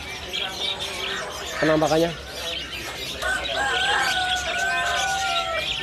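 Small caged birds chirp and tweet at a bird market kiosk, with quick scattered calls and a few brief whistled phrases close by, under steady crowd noise while someone talks.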